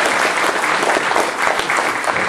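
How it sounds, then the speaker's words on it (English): An audience at a Lacey Rotary club meeting claps in a steady, loud round of applause that carries on evenly throughout, with no voices rising above it. "round of applause for."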